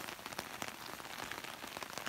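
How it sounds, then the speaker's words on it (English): Heavy rain pours down steadily outdoors, a dense, even patter of drops on surfaces, fairly soft in level and continuous for the whole short stretch. "But the rain does seem to be coming in pretty hard."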